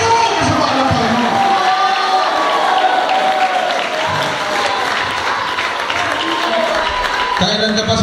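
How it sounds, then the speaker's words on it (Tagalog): Congregation at a Filipino Sunday church service clapping loudly and shouting together, sustained dense applause and cheering voices close by, with a preacher's voice talking over the crowd. "Kung maaari, palakpak mo ng malakas na palakpak at ikaw na Panginoon"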